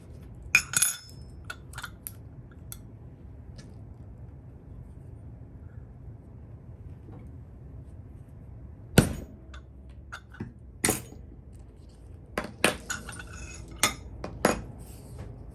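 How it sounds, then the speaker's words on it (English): A hammer sets a rivet on a leather wallet wrist strap, giving a few sharp, close metallic taps in two clusters separated by quiet handling sounds. "Set your rivet and your wrist strap is done."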